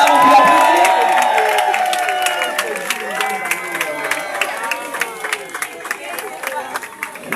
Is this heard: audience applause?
yes